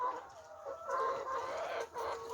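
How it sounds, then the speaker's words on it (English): Chickens clucking in a large chicken farm house in South Korea, a dense, faint chorus of overlapping clucks and squawks from many birds, steady with small surges. "Down there they have another house and thousands of chickens are here."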